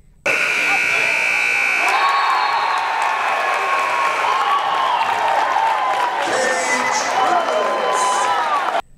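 A basketball game buzzer sounds at halftime, a loud sustained electronic tone lasting several seconds over a noisy arena crowd cheering and shouting, ending abruptly.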